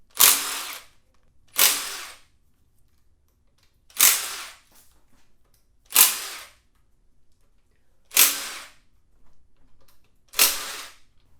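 Power tool, likely an impact wrench, zips off the main cap bolts on a Chevelle's turbo LS engine during bottom-end teardown: six short, sharp bursts at roughly two-second intervals, loud and close with quiet gaps between.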